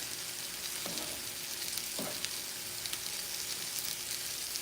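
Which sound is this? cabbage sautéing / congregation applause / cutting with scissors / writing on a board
cabbage sautéing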